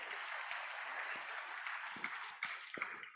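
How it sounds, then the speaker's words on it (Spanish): Church congregation clapping in praise, a faint, distant patter of applause with scattered louder individual claps toward the end. "Dale un aplauso al Señor"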